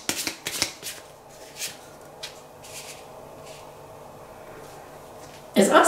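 Fortune-telling cards are shuffled in several quick riffling bursts, followed by quieter soft card handling and a louder rustle at the end.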